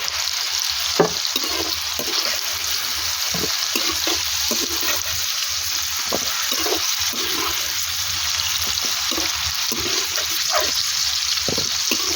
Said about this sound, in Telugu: ఇట్లా వేపుకోవాలి దోరగా